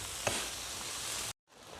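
Garlic fried in fish sauce sizzles in a pan, a steady close hiss of frying that cuts off abruptly, then resumes more softly.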